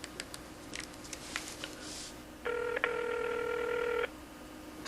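A telephone is dialed, with a string of faint, quick keypad taps followed by a sustained, loud dual-tone beep lasting over a second, then a sharp click at the end.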